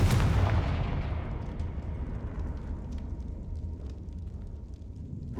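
Confringo fire spell in Hogwarts Legacy erupts in a loud, close blast that rolls into a long, rumbling decay, trailing faint crackles and debris-like ticks to the end.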